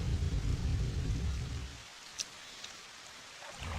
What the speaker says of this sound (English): And now it's pouring rain.